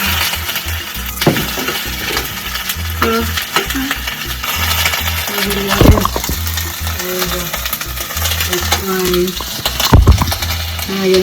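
Onion frying in a pan sizzles loudly and close, with repeated stirring scrapes and clinks of a utensil against the pan throughout.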